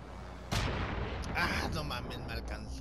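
A sudden loud blast of explosion noise in Call of Duty: Modern Warfare, rumbling and crackling for a couple of seconds, with a voice talking underneath.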